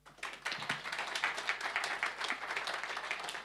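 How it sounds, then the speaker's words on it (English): An audience claps for a forum panel in Davos, a dense patter of many hands that swells in quickly and continues steadily at moderate volume. "I would like to ask the audience to give my panel a great hand of applause."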